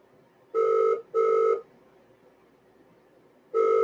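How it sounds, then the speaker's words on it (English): A telephone on a trading desk rings unanswered, three identical electronic ring bursts, the first two close together and the third after a long silent gap, clear and fairly loud with no talk. "See how long this phone has been ringing for a trading desk?"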